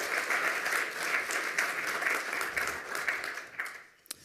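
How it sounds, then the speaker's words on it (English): An audience at a hacker conference lightning-talk session applauds with dense, steady clapping that tapers off near the end. "Give him another round of applause for being the first today and having so many slides."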